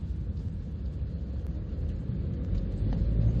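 A 2009 Ford Focus Estate Mark II, a 1.6 TDCi Zetec diesel, is driven around a corner, giving a steady low engine and road rumble heard from inside the cabin that grows slightly louder, with no talk.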